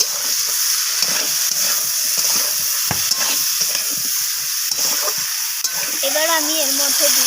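Ginger paste, sugar and spices being stirred and sautéed in a pan for a matar dal with drumsticks and potatoes: steady sizzling and frying hiss with repeated scraping strokes of a spoon, close up, and a brief voice near the end.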